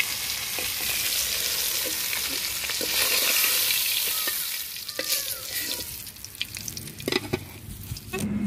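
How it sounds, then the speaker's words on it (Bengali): A rohu fish head frying in hot oil, a continuous loud close sizzle with crackling spatters and a few clinks of a spatula or pan, easing off toward the end. "লাল লাল করে মাথাটি আমি ভেজে নেব"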